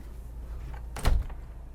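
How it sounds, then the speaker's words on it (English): A cedar-lined closet door in a stateroom aboard a 141-foot custom luxury superyacht is opened, giving a single soft swoosh against a steady low background hum. "Let's open up one of these doors."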